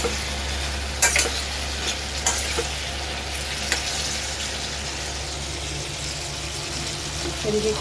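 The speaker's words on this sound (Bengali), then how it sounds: "এদিকে একটু চা বসালাম আর এদিকে এটা ভাজছি।" Sliced ridge gourd fries in a pan with a steady, dense sizzle and a low hum underneath, punctuated by a few brief utensil clinks and scrapes.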